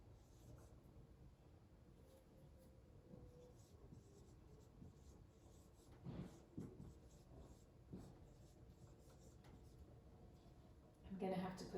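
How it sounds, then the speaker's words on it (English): Someone writes on a classroom board in quiet, scratchy strokes that come in irregular bursts, growing briefly louder near the end, with a faint voice in the background. "Let's write that on the board."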